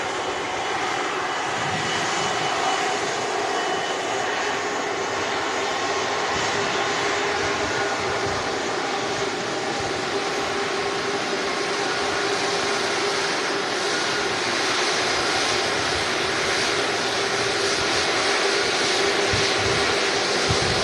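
A Jet2 Airbus A330-200 at Manchester Airport roars steadily with a continuous, loud, broadband engine rumble and whine for the whole stretch, with no talk.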